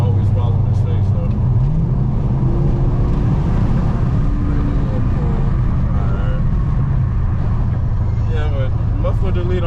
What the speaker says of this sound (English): Muffler delete, I'm pretty happy with it.